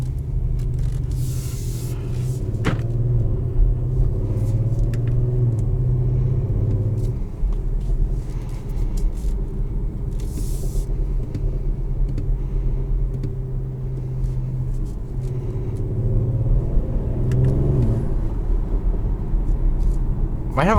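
A 2022 Audi SQ5 with a twin-turbo V6 and aftermarket exhaust drives along, heard from inside as a loud, continuous low rumble that swells and eases with throttle changes, with brief sharper bursts and scrapes mixed in.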